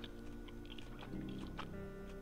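Game eating sound effect in Project Zomboid as a banana is eaten: quiet, soft repeated chewing and biting over about two seconds, with no talking.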